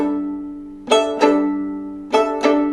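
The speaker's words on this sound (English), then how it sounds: "the other way we can do some pizzicato is by using a guitar-type stroke" Violin pizzicato played with a guitar-like strum across the open strings, four ringing plucked chords in two quick pairs, each sustaining and slowly fading, close and clear with no talking.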